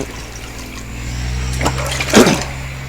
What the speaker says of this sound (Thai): เอาน้ำใส่ข้างบน